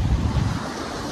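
Sea waves washing over a swimmer at a beach in Fujairah, a brief rush of surf and splashing water close to the microphone with wind buffeting, the wash fading slightly toward the end.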